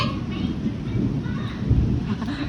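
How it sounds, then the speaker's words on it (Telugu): Thunder rumbling during a summer rainstorm, a low, continuous, fairly loud roll with a swell near the end, over a faint hiss of rain. "థండర్ స్టార్మ్స్ కూడా వస్తున్నాయి."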